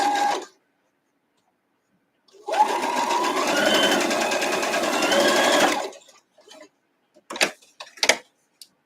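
A sewing machine stitches pieces of a quilt block in one steady, fast mechanical run of about three seconds, with silence before it and a few sharp clicks and taps afterward.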